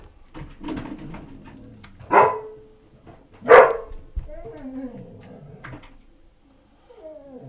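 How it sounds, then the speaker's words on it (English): A dog barks twice, loud and close, with quieter bird-like calls and faint background sounds between the barks. "I apologise if the dog barking hurts your bloody ear"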